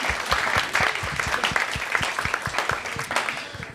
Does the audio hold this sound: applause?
yes